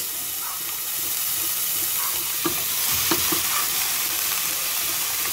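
Onion and tomato sauté in a pan where fish is being cooked, giving a continuous moderate sizzle with a few sharp stirring clacks in the middle, close and without talk.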